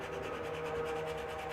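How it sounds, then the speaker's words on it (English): Faint, steady rubbing of heavy-grit sandpaper lightly over a surfboard ding repair, a continuous soft scratchy hiss with gentle rhythmic strokes. "I'm just sanding really lightly"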